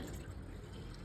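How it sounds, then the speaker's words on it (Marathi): A glass of water poured into a pan on a gas stove, a short, faint, continuous splash lasting about a second. "गॅस झाला चालू, त्याच्यामध्ये 1 ग्लास पाणी घालूया."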